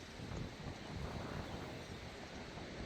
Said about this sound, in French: depuis tout à l'heure, ça fait que des coups de vent qui se renforcent.